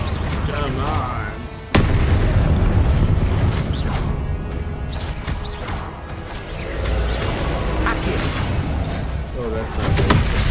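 Confringo blasting spell explosions during combat in Hogwarts Legacy, with a sharp, loud blast near the start that gives way to dense, rumbling battle noise and further impacts.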